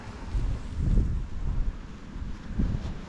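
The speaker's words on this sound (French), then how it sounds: "Après il y a un sacré vent," Strong crosswind blows outdoors, buffeting the microphone in a continuous low, rumbling roar that swells and eases in gusts.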